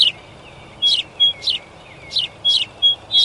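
A small bird in a dense forest gives repeated bright, high chirps in short clusters, close and clear with quiet gaps between calls and no talking.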